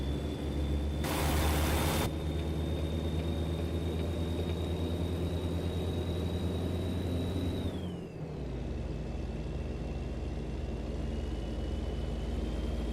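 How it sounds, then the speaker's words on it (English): A heavy truck's diesel engine in American Truck Simulator, a steady loud drone with a constant whine that drops in pitch partway through, a brief hiss burst near the start, no talking. "I do love the sound of this truck."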